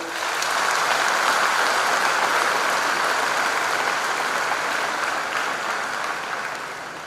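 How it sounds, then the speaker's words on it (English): An audience at a college freshers' induction programme claps in sustained, even applause that swells quickly and holds at a steady level, fading slightly toward the end. "Don't they deserve a lot of applause from all of you?"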